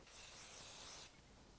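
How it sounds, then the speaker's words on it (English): A single steady hiss of hairspray aimed at a hairstyle's fringe, close and fairly soft, lasting about a second before cutting off into quiet room tone. "So I'm going to spray,"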